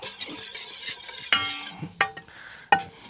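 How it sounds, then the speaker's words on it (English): A whisk stirs Alabama white sauce in a bowl, producing a steady wet swishing broken by three sharp metallic clinks against the side. "Whisk it real good."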